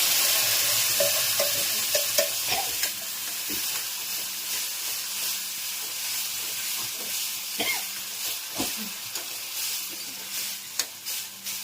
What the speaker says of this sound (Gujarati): ચીબડા અડદની દાળનો વઘાર થઈ ગયો છે